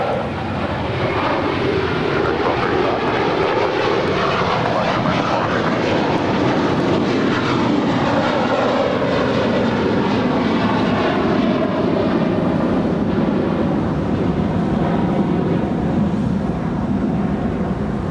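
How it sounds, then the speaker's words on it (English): American Airlines Airbus A321 departing LAX for Dallas Fort Worth, loud sustained jet engine roar with sweeping tonal whine shifting in pitch as the aircraft passes, continuous for the whole stretch. "departing to Dallas Fort Worth on an A321"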